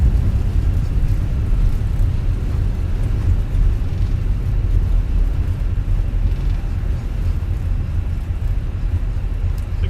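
Fenix A320 airliner in a Microsoft Flight Simulator landing, thrust reversers deployed, producing a steady loud low roar and rumble that holds evenly throughout without speech.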